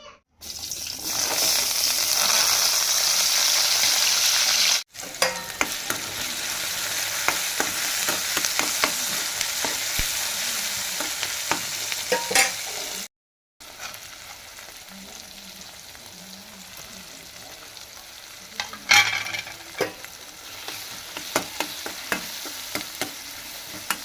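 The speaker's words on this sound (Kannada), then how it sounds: "ಈಗ ಒಗ್ಗರಣೆ ಹಾಕ್ಬಿಡ್ತೀನಿ ರೀ" A loud burst of sizzling as tempering spices hit hot oil for breakfast, followed by steadier frying and scraping stirring sounds in a pan.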